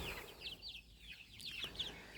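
Chickens and young chicks cluck and chirp in a coop with a rooster among them, Cochin hens included; a steady run of small high peeping calls continues through a short stretch without talk.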